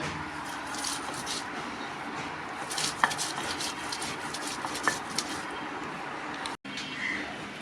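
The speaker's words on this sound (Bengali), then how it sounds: "এখন আমরা শুটকিটা বাটতেছি।" Dried fish (shutki) being ground by hand on a grinding stone, a steady rough scraping and rubbing texture with a few sharp clicks, fairly quiet and continuous with no talking.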